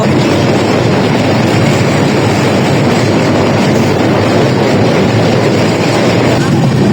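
Kapotaksha Express passenger train rolling along rails after departing Bheramara station, a steady loud rumble of wheels and carriage noise filling the whole stretch without pause.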